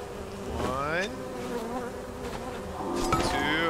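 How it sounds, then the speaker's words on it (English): Loud, close buzzing of bees in the video game Conan Exiles, with wavering, droning pitch that rises and swells, continuous throughout with no voices. "I hear bees"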